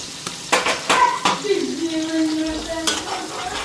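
Eggs hit hot oil in a kadai with a sharp crackle and sizzle, followed by scraping stirring strokes and a few metallic clinks, close and fairly loud.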